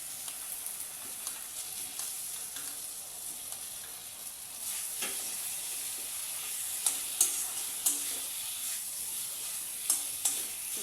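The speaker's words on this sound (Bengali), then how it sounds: "মশলা ফ্রাই হয়ে গেছে, এর মধ্যে আমি দিয়ে দেব আলুগুলোকে।" Potatoes fry with spices in a pan, a steady bright sizzle with occasional stirring scrapes and soft clicks, close and even, with no voices.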